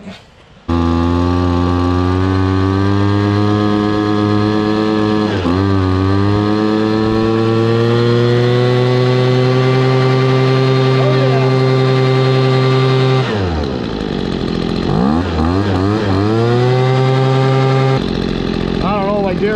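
A Craftsman/Poulan 25cc two-stroke leaf blower engine, just fitted with a replacement carburetor, runs loudly and steadily close by, dipping and revving up briefly near the end before settling again.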